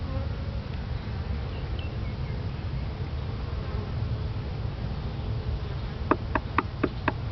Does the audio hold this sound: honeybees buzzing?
yes